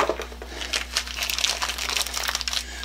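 A cardboard box for a band saw vise is handled close up, giving continuous crinkling and scraping rustles that rise and fall over a low electrical hum.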